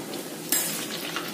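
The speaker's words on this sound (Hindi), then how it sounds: "एक बार में हम 4 कटलेट फ्राई करेंगे" Rice cutlets fry in a pan four at a time, giving a steady close sizzle with a brief sharp scrape or clink partway through.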